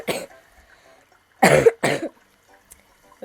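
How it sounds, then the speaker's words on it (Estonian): A person coughs loudly and close to the microphone: one burst, then a quick double cough after a pause, with faint background game music underneath. "Ups, jälle köhisin."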